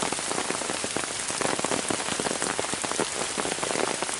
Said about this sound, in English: It's nice when it rains.